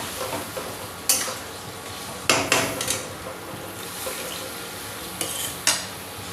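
Jackfruit curry being stirred and sautéed in a pan with a little water, soft bubbling under sharp intermittent scrapes and clinks of a spatula against the pan, several distinct strikes spread across the stretch.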